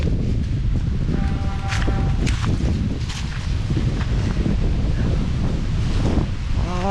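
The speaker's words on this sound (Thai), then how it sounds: "ลม" Wind gusting through a mango orchard in early season, a steady broadband rush with loud buffeting against the microphone and brief tonal whistles, continuous throughout with no talk.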